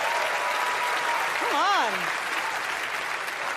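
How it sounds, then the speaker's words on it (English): An audience applauds Donald Trump at a 2011 comedy roast, a dense steady wash of clapping throughout, while a voice calls out briefly over it in the middle. "Give him a round of applause."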